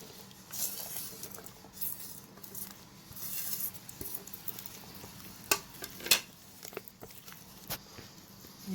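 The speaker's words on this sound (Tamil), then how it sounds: "மெதுவாக பன்னீர் உடையாத மாதிரி மிக்ஸ் பண்ணி விட்ருங்க" Paneer cubes and onion pieces for paneer tikka are gently mixed in a bowl, giving soft, faint scraping and patting sounds with a few sharper clinks, close by with no talking.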